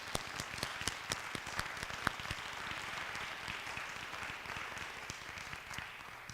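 Audience at a university Black History Month celebration giving a round of applause, a steady wash of many hands clapping at moderate distance, with no voices standing out.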